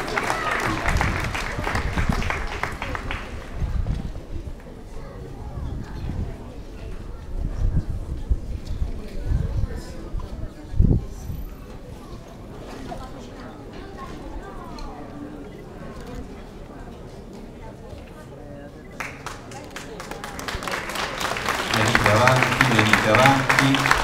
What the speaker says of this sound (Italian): Con un bel applauso accogliamo la nostra Madonna, che sta per andare in pellegrinaggio.